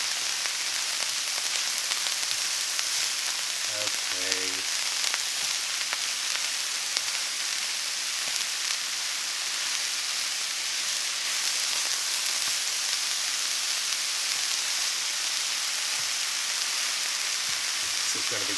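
Garlic and ginger sizzle and crackle steadily in a hot pan of chicken and cauliflower fried rice, a close, continuous hiss with faint stirring noises, no talking.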